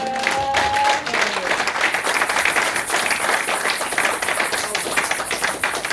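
Church congregation applauding during a French-language sermon, dense steady clapping across the whole stretch with some crowd murmur mixed in, fairly loud and continuous.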